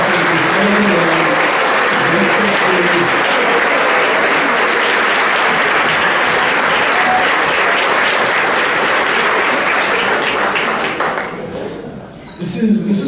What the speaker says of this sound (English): let's stand up, give them a round of applause